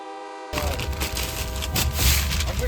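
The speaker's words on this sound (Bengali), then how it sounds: "ট্রেন ছেড়ে দিয়েছে শালিমার স্টেশন থেকে।" Shalimar-Gorakhpur Express rolling out of Shalimar station, a continuous rumbling clatter of wheels and carriages starting abruptly and holding steady and close, with faint irregular knocks.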